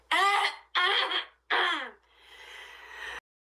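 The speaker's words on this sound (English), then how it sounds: "that is the fakest cough I've ever heard." Three short, forced coughing bursts in quick succession, followed by a softer breathy exhale; clearly exaggerated rather than natural coughing.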